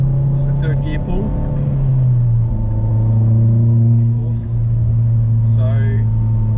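Car running the Collins Performance CP2 tune pulls hard through third gear, a steady loud engine drone rising in pitch and holding from inside the cabin, with voices talking over it.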